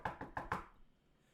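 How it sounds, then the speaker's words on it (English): Four quick knocks rap on a door at a steady pace, moderately close and clear, then the sound fades into a quiet room with no voices. "you hear a knock at your door."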